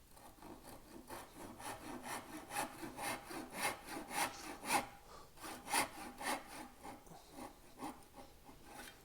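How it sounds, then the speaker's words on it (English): A hand saw cuts into wood to form the flat of a chamfer on a lamb's tongue carving detail, giving steady, rhythmic rasping strokes that carry close and clear through the whole stretch with no talking. "Now I'm just going to make a saw cut and create the flat on the chamfer first."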